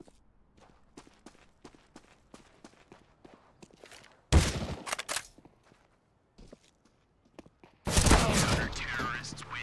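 Counter-Strike: Global Offensive gameplay, with quick footstep ticks giving way to two loud, dense bursts of gunfire, the second sustained for nearly two seconds.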